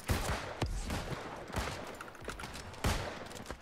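Rapid bursts of gunfire from a competitive online shooter match, a few loud volleys spaced through the moment with sharp transients, no talk over them.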